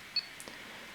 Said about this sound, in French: Ça, c'est le bruit de démarrage lorsqu'on allume la caméra.